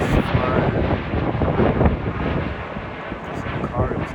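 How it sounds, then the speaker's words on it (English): A private jet flying overhead, its engine a continuous, moderately loud roar that swells and holds through the whole stretch, mixed with outdoor wind buffeting and no talking. "a private jet, actually. Probably took off from local airports."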